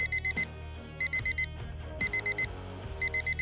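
An alarm clock rings in loud, regular bursts of high electronic beeps, four quick beeps per group repeating about once a second, with softer clattering sounds between groups.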